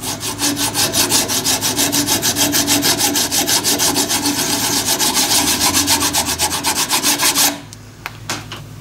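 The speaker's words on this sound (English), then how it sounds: "What I'm planning to do here is to just lightly draw file that" Hand file lightly draw-filing a small cast aluminium name plate: a fast, steady rhythm of close, loud rasping strokes for several seconds, then stopping into a few faint scrapes.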